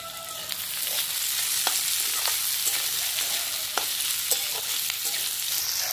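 Cauliflower florets for chilli cauliflower sizzle in a pan in a steady broadband hiss, with a few sharp clicks of a spatula stirring them through the oil. No one talks.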